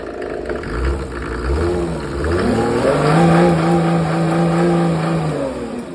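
A Mercedes OM606 3.0-litre diesel with a mechanical injection pump drives a PN-40 water pump, running loud and close with a steady hum whose pitch climbs briefly and then holds even.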